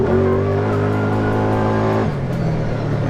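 A 2019 Kawasaki Teryx4 LE side-by-side UTV engine droning steadily and climbing in pitch under load while accelerating, then shifting down, loud and close throughout.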